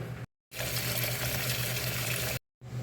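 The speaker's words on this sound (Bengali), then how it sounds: "এখন পরিষ্কার পানি দিয়ে ধুয়ে নিব।" Clean water runs over salted, lemon-rubbed poa fish being rinsed, a steady rushing tap-like flow that cuts in and out in two short breaks, close and fairly loud with no talking.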